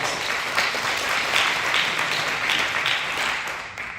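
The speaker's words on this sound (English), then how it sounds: "give you all a round of applause" An audience at an evening live event in Wise County, Texas, gives a loud, full round of applause that holds steady and tapers slightly at the close.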